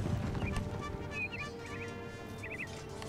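Cavalry horses gallop in the video game Empire: Total War, a rapid, continuous drumming of hooves with faint bird chirps above the battle noise.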